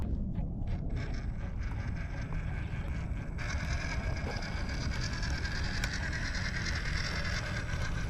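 A WPL C14 RC crawler grinds over rocks in low range gearing, its small motor and gears whirring with steady mechanical clicks and creaks, close and continuous throughout.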